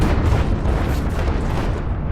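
A nuke explosion in the video game Planetary Annihilation, a dense low rumbling roar that stays loud and steady with no distinct onset, like a sustained blast.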